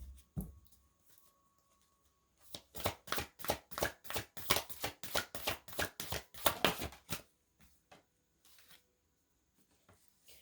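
A deck of tarot cards is shuffled in a quiet room, giving a rapid run of about a dozen crisp riffling snaps close to the microphone, followed by a few softer taps.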